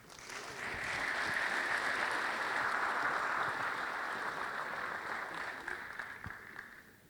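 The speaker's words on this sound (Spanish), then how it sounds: "Un fuerte aplauso, por favor." An audience at the opening of a judicial school diploma course gives sustained applause, swelling quickly, holding steady, then tapering off toward the end.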